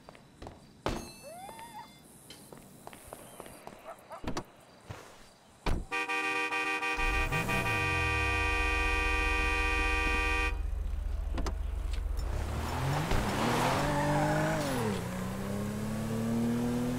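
A car door thumps shut in Grand Theft Auto V, then the car's engine fires up and revs loudly as the car accelerates away, pitch rising and falling, with no talking.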